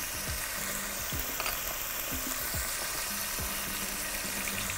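Chicken pieces fry in a hot pan with salt and pepper, giving a steady, close sizzle broken by several scraping stirs at irregular intervals.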